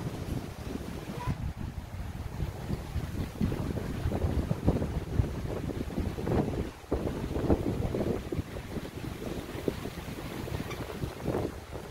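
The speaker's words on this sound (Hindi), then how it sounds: "हमारे यहाँ बहुत ज़्यादा हवा चलती है।" Strong wind gusts through the hills and trees, buffeting the microphone with a loud, rumbling roar that rises and falls in uneven surges without letting up.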